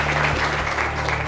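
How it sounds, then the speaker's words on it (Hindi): Audience claps briefly but fully, a dense wash of many hands with a low hum underneath, over about a second. "एक बार सर के लिए जोरदार तालियां बजा दीजिए प्लीज"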